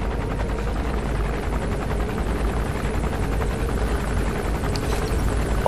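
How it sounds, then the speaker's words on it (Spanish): Helicopter from the stealth video game Metal Gear Solid V: The Phantom Pain, a steady rotor drone with thick low rumble and chopping blades. It holds loud and constant throughout, as if close or passing overhead. "Oigo el puto helicóptero como..."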